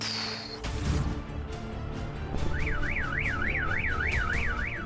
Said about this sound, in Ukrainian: Сигналізація.